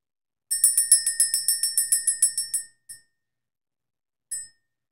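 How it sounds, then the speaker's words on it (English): A small bell struck in a fast run of about a dozen bright, ringing dings, followed by two separate single strikes after pauses, clear and close in a silent room. "Let's ring the bell."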